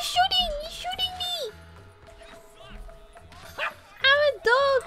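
A dog barks and yips in the Los Santos streets of the video game GTA. The barks come close and loud in short bursts, with excited talking and high whimpering noises mixed in.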